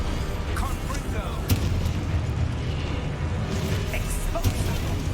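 The Confringo fire spell from the video game Hogwarts Legacy explodes in dense, rumbling blasts with a few sharper pops on top, loud and continuous throughout.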